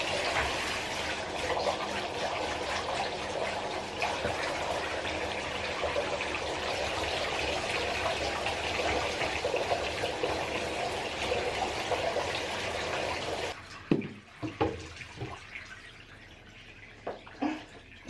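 Water pours steadily over a small dog during a bath rinse, a continuous splashing stream under faint background, then stops into sparse drips and small splashes near the end.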